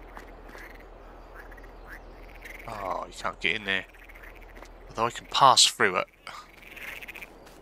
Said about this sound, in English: I think that's supposed to be the ducks